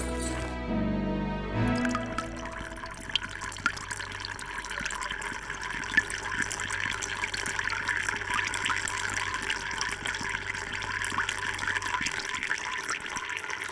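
Steady running water pours and splashes from a tap, close and continuous.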